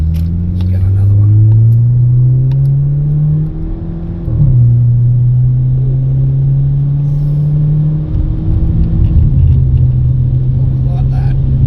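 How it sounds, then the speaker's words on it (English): MG HS 2.0 car engine accelerating at three-quarter throttle, a loud close drone rising in pitch through two gear changes with brief dips between pulls. "That's it's a nice bit of acceleration. It's 3/4 of a throttle, so it wasn't full throttle then."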